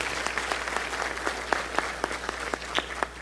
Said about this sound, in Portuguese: E quero pedir uma salva de palmas para ele